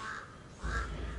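Crows cawing in a mountain valley at sunrise near McLeod Ganj, India, a few harsh calls carrying at moderate distance over a steady outdoor background with no talk.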